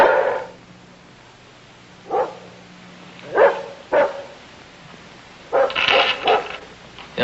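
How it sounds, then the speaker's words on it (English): A dog barks in scattered bursts at night: a single bark, then another, then a quick cluster near the end. It is fairly distant and stands alone against a quiet background. "All I can hear is that darn dog barking."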